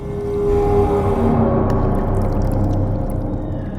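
A whale calls underwater, a loud, drawn-out low moan with layered tonal harmonics that holds for several seconds and then slowly thins, heard alone without talk.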